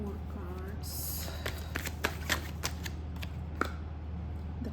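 Tarot cards are shuffled and drawn in a series of crisp snaps and flicks over a steady low hum, with a faint voice in the background.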